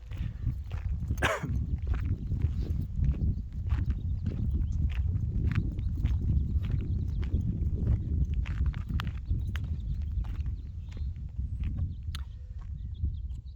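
A contented horse walks along with a steady clip-clop of hooves, close and fairly loud over continuous outdoor background noise, with no talking.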